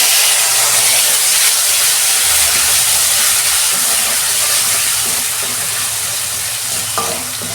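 A paste of ground ginger, cumin and coriander fries in a hot pan for a vegetable curry, giving a loud, continuous hiss and sizzle with faint stirring scrapes. The sizzle eases slightly toward the end.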